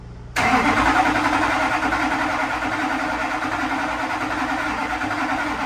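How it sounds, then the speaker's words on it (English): A Duramax diesel truck engine, just fitted with an 800-horsepower fuel system and suspected of air in the fuel lines, cranks loud and steady without catching, one continuous drone that starts abruptly and runs to the end. "obviously it's not starting"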